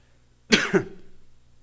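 A single sharp cough during a church sermon, followed by a quick second, rougher burst, close and fairly loud, then quiet.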